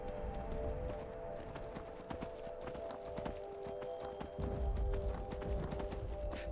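Horse hooves galloping in the video game Skyrim, a rapid continuous clip-clop rhythm over steady game music and ambience, moderately loud and close throughout.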